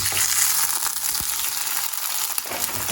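An egg fries in a non-stick pan, a close, steady crackling sizzle with a few soft bumps and scrapes, and no voices.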